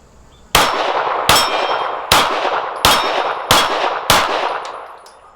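Shots from a Smith & Wesson M&P 2.0 Metal pistol striking steel targets and a gong, six loud, sharp metallic clangs at a steady rhythm, each ringing out and decaying before the next, with no talking.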